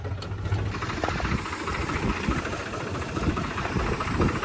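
A 4x4 tractor engine runs steadily on a farm field, a continuous low rumble with knocking texture throughout, close and fairly loud with no talking.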